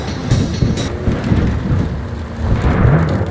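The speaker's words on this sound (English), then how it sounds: "See that? That is one hell of a storm." A loud, steady downpour and rumbling thunder from a thunderstorm in the video game Cyberpunk 2077, continuous and close throughout with no talking.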